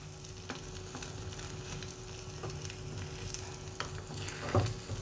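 An egg omelette fries in very hot oil in a condo kitchen, giving a steady soft sizzle with occasional crackles and one louder pop near the end, and no voices.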